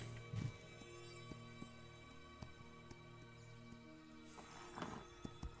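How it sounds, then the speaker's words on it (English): Horse in Pantheon whinnying quietly in the distance, with scattered clip-clop hoofbeats and a second neigh near the end over a faint ambient hum. "Oh, horsey."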